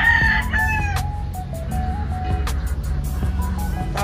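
A golden monkey sweater gamefowl rooster crows near in a flying pen, its strained harmonic call rising and falling over low background rumble, with other fowl sounds around.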